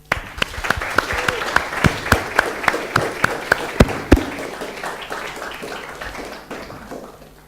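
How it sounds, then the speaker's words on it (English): An audience at a tech talk show breaks into applause, dense clapping from many hands that holds steady for several seconds and then thins out and fades toward the end. "Please give them a warm round of applause."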